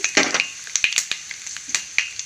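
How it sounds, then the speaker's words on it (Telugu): Mustard seeds, cumin and chana dal sizzle and crackle in hot oil for a tempering, with sharp close pops and spatters over a steady frying hiss, no voices. "పోపు దింపులు జీలకర్ర వేసుకున్నాను ఆవాలు అలాగే శనగపప్పు"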